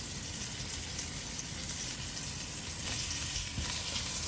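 Cinnamon sticks, star anise and cloves frying in hot oil make a steady, dense sizzle that stays even and close throughout, with no talking.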